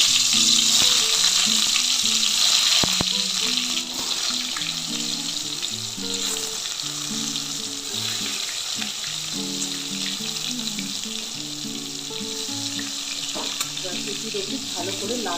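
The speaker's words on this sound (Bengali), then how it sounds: "তেলটা গরম হয়ে গেছে, এবার আস্তে আস্তে বেগুনগুলো আমি ছেড়ে দিচ্ছি।" Brinjal (eggplant) pieces frying in hot mustard oil in a kadai: a loud, steady sizzle with occasional crackles, running throughout under background music.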